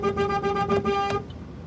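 Loud honking of train horns mounted on a vehicle at a road protest, several strong sustained blasts in quick succession before they cut off and leave faint background noise.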